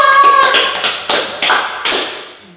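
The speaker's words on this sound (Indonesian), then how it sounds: "tepuk tangan bagi kita semua." A group of children and youth at a church worship service in Bandung clapping hands together in a few loud, uneven bursts that fade out over a couple of seconds, with no voices.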